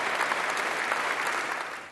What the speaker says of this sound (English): dignitaries and clergy rose to applaud the hundreds of Paris firefighters who fought for hours